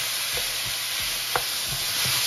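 Onions for chicken fajitas sizzle steadily in a hot pan, making a loud, continuous frying hiss with occasional soft stirring scrapes and taps.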